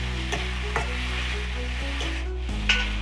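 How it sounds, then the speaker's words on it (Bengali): Mustard paste goes into a pan of frying fish curry with turmeric and chili powder and sizzles steadily up close, while a spoon stirs with soft scraping taps at regular intervals. "এর মধ্যে সর্ষে বাটাটা দিয়ে দিচ্ছি"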